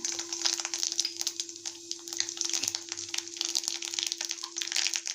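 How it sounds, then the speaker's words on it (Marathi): Cumin and mustard seeds splutter in hot oil in a kadhai, a dense run of quick sharp pops and crackles over a steady hiss, close and continuous without talk. "जिरं मोहरं तडतडलं"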